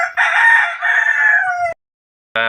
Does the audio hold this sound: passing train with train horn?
no